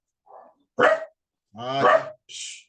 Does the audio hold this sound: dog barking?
yes